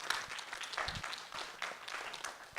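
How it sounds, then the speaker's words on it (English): An audience at a nanoscience summer institute's final presentations claps in welcome, a moderate, continuous patter of many hands that stays fairly even throughout. "let's give a nice round of applause to Dr."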